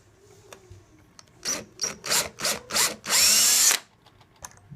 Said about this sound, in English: So he's pre-drilling the holes right now where the screws are going to go.